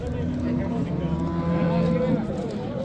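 Cattle at a cow market give a long, drawn-out moo over steady crowd noise, while people talk nearby.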